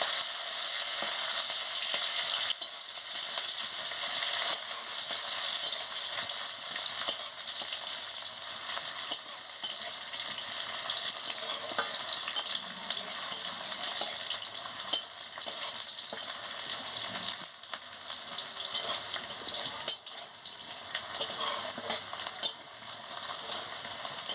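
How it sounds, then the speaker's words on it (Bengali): Chopped onions frying in a pan for a jhinge posto dish give a steady, close, continuous sizzle with occasional faint stirring scrapes and no speech. "পেঁয়াজটা ভালো করে ভেজে নিচ্ছি।"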